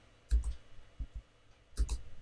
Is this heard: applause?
no